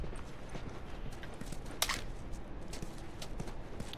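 Horse hooves clip-clop in The Last of Us, a faint, steady walking rhythm of soft hoof falls over a low game ambience, with one brief brighter clink partway through.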